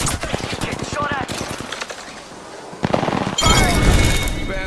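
Rapid automatic gunfire from the video game Apex Legends, loud close bursts of shots with short pauses between them, mixed with louder blasts and a voice talking over the action.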